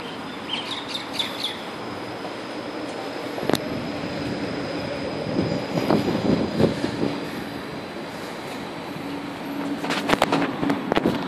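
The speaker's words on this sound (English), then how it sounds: "Sounds like there's a tram coming right now." A Melbourne E-Class tram on a Route 96 service passes and departs, its rumble steady and moderately distant, with sharp rail squeals and clanks near the end while birds chirp around it.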